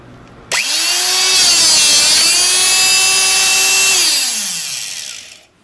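Power tool cutting quarter-inch steel plate, a loud screaming whine that snaps on, holds with a slight pitch dip as the blade bites, then winds down and fades as the motor spins out.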